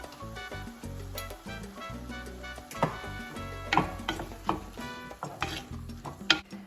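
Minced garlic goes into a hot pot and is stirred, giving scraping, tapping utensil sounds with light clinks against the pot, set under steady background music.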